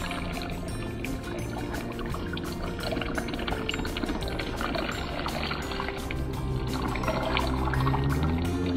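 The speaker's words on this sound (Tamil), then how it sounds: "இப்போ இந்த தக்காளி மூழ்கிற அளவுக்கு தண்ணி சேர்த்து 4 நிமிஷம் வேக விட போகிறேன்." Water is poured into a pot of tomatoes, making a steady, continuous splashing and gurgling stream that stays loud and close throughout with no talking.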